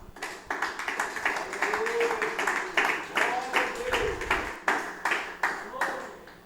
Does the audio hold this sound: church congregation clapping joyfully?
yes